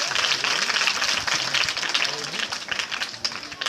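An audience at a local public gathering gives dense, steady applause to welcome arriving guests. The clapping is fairly loud and continuous, with people talking under and through it.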